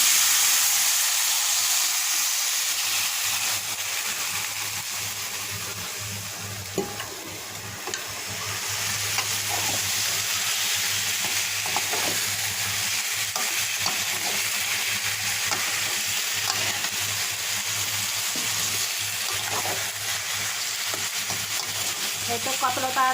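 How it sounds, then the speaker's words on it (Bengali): Vegetables dropped into hot mustard oil make a dense, loud, steady frying hiss that runs on without a break, with occasional stirring scrapes underneath. "এখন আমি সবজিটা তেলে দিয়ে দিচ্ছি"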